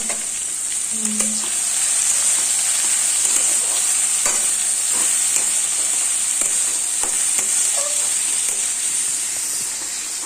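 Carrots, potatoes and green beans with whole cumin seeds fry steadily in a pan, a constant bright sizzle with occasional stirring scrapes in a home kitchen, running unbroken throughout.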